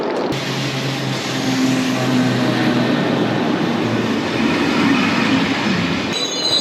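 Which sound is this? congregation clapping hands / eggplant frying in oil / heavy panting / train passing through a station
train passing through a station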